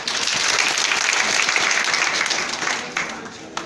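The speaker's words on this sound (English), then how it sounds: "A round of applause for us." Audience applause at a JAMB training programme event, loud sustained clapping from a crowd that tapers off near the end, with a voice faintly underneath.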